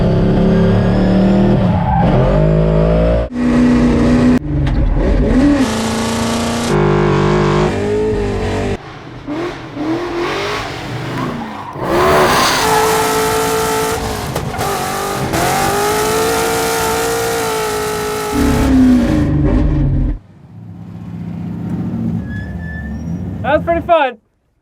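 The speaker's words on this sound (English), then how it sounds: "I need some proof you can drift that thing too." A drift car slides around a historic NASCAR racetrack, its engine revving hard while tires squeal and skid in long bursts, loud and close, with voices talking between runs.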